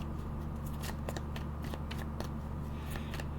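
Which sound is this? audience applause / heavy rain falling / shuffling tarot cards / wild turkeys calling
shuffling tarot cards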